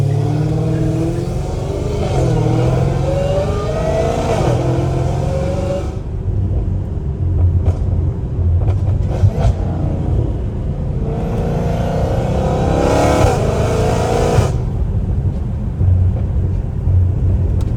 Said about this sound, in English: when it's straight pipe like this, it sounds like a whole different car